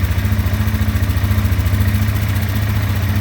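A 2025 Sportsman 450 HO ATV engine creeps along at low revs around 1250 RPM, a close, loud, evenly pulsing throb with a steady mechanical clatter.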